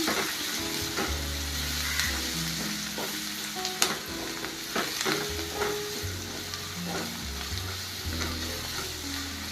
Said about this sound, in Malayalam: ഒരു ടീസ്പൂൺ കുരുമുളക് പൊടി ഇത് ചേർത്ത് നന്നായിട്ടൊന്ന് ഇളക്കി യോജിപ്പിക്കണം